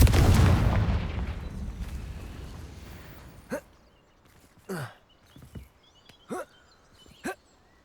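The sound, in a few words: Confringo explosive fire spell in Hogwarts Legacy video game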